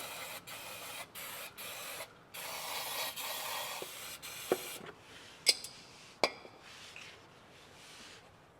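Bursts of hissing aerosol spray cleaning car parts during an MG3 oil change, several short sprays then a longer one, followed by faint clinks and knocks of metal parts nearby.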